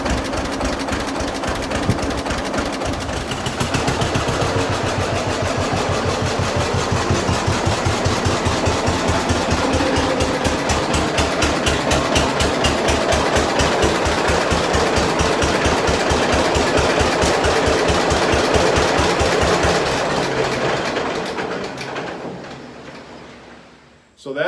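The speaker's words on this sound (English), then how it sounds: "my brother got this tractor running" An old John Deere 50 tractor engine runs loudly and steadily with a rapid, regular chugging beat for about twenty seconds, then cuts off and fades near the end.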